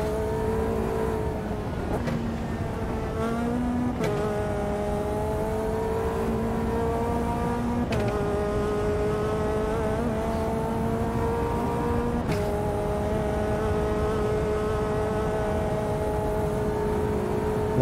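Race car engine accelerating hard and holding a steady high whine as it pulls away, with a few sharp gear-change breaks in the tone, loud and continuous throughout.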